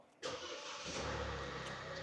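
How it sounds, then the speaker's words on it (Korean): A Hyundai/Kia SUV engine starts with a push button: a sudden catch after a brief quiet moment, then a steady mid-pitched idle that stays close and even. "이 친구도 오 엔진 소리 좋아요"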